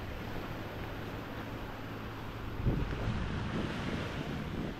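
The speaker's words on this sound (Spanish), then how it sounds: "Y el ruido de las olas que te relajan." Ocean waves breaking on a beach, a soft, continuous wash of surf mixed with wind rumble, with one slightly louder surge midway; no talking.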